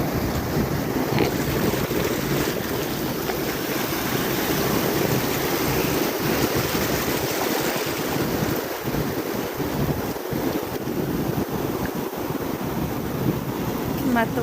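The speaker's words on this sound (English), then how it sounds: "Can let the waves come up to us." Ocean surf rolls onto a beach at sunrise, a constant roar of breaking waves heavily buffeted by wind noise on the microphone.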